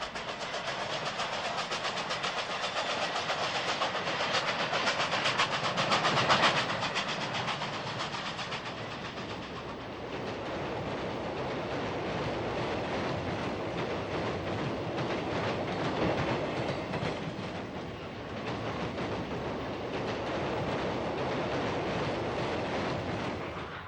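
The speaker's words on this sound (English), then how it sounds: "Steaming south near Olive Avenue, the train is running as an extra to Reedley." Steam train on the Friant branch near Fresno heading south near Olive Avenue, a continuous rumbling, rolling clatter of the train passing steadily and fairly close, with no voices.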